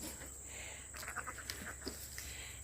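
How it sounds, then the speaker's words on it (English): Faint, short goat bleats rise briefly over a quiet outdoor background with a steady high hum. "There's the big goats."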